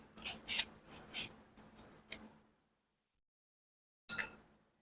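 A metal file rasping across a small machined part of an HW50S .177 air rifle during deburring, a quick run of several close, bright scraping strokes followed by a pause and one final short stroke.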